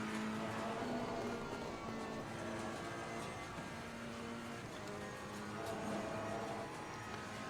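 Ferrari 488 GT3 Evo racing around Silverstone in a racing video game, its engine droning steadily with a continuous, even tone throughout, fairly quiet and alone with no voices.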